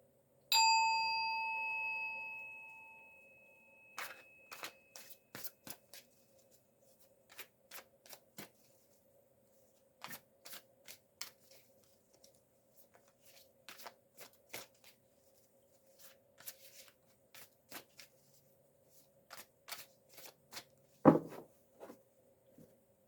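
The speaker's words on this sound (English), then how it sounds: "I'm going to be quiet while I shuffle" A bell rings and fades, then tarot cards are shuffled in short, repeated flicks and riffles, close and quiet, with no talking.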